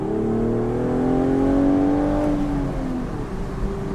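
The engine of a 2025 BMW Z4 M40i with a 6-speed manual hums steadily, its pitch rising and then falling away as the car drives, heard close up with no talk.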